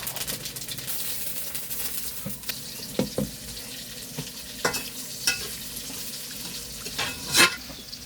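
Panch phoron spices and chillies fry in hot oil with a steady close sizzle, broken by a few stirring knocks and scrapes in a pan; no one speaks.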